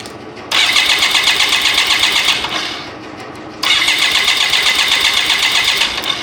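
A BMW K75RT motorcycle engine cranks with no fuel pressure in two loud, close bursts of starter whirring, each lasting a few seconds. A short pause separates them, and the engine does not catch.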